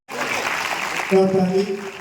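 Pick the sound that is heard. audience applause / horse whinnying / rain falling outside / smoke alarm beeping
audience applause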